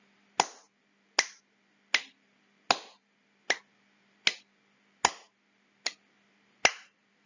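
Nine single hand claps keep a slow, steady beat about a second apart, each sharp and crisp, heard alone over a faint low hum.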